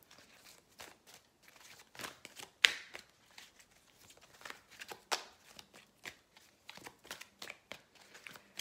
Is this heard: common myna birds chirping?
no